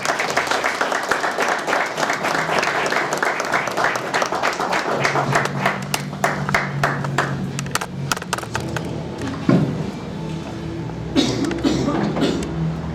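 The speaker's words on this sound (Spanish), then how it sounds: "Recibamos con un fuerte aplauso" Audience applause welcoming a speaker at a church talk on the Nativity, dense clapping that runs several seconds, thins into scattered claps, with brief murmurs and a voice speaking near the end.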